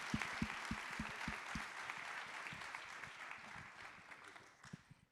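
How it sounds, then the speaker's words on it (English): Audience applause for panelists at a state startup competition final, a steady wash of clapping with a few sharp close claps up front, slowly tapering off over several seconds. "How about a round of applause for panelists?"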